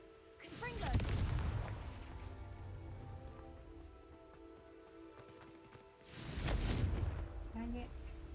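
Two Confringo fire-blast spells go off in a wizard video game, each a loud rumbling burst with a crackling tail, one near the start and one after about five seconds, with a quieter sustained rumble between them.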